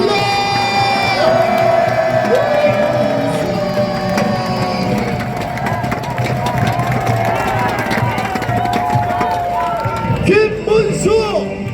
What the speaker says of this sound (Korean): 더욱더 큰 박수와 함성 부탁드립니다